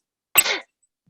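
A young girl gives a single short, rough cough, close and alone, lasting about a quarter second before silence.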